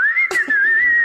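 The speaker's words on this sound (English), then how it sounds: "Isn't that the most beautiful pneumonia whistling you've ever heard?" A steady, high whistled tone with a slight waver holds for about a second, briefly broken by a couple of soft bumps, a wheezing whistle from breathing with pneumonia.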